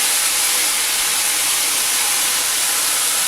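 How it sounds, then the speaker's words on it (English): Balsamic cherry vinegar hits a hot pan to deglaze it, giving a loud, close, unbroken steamy hiss that holds steady from start to finish. "now we're going to add the balsamic cherry with vinegar"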